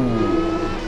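A Koenigsegg engine racing in the Roblox game Driving Empire, a loud sustained steady engine drone with strong low harmonics, close and continuous for under a second.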